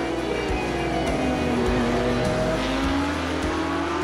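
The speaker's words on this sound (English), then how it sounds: "Driving the two cars back to back perfectly demonstrates the differences between these two cars." Porsche Cup race car in iRacing, engine droning steadily at high revs with rising and falling pitch as it shifts, loud and continuous with no talk.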